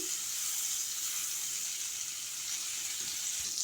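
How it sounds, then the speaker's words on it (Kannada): Butter melts on a hot griddle before paneer tikka, giving a steady, even hiss that runs without a break, close and moderately loud, with no talking. "ಸ್ವಲ್ಪ ಬೆಣ್ಣೆ ಹಾಕಾಕತ್ತೀನಿ ನಾನು, ಅಂದರೆ ಬಟರ್."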